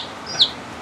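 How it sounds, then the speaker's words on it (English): A baby chick inside a house gives a single short, high chirp, brief and clear against quiet room noise. "we got a baby chick in the house right now"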